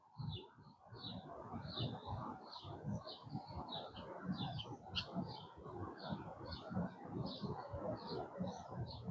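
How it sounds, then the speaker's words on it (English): Short bird chirps repeat steadily over a constant low rumble of traffic or city noise along the Schuylkill River Trail walkway in Center City. "listening to the sounds of birds chirping"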